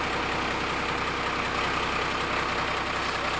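A Cummins diesel engine idles in a four-wheel-drive camper van conversion, a steady, even rumble with a faint rhythmic knock, close and continuous with no talk.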